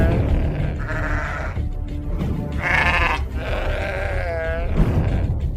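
Sheep bleating in a flock, several distinct wavering calls rising over a constant low rumble of background noise, fairly close and with no talking.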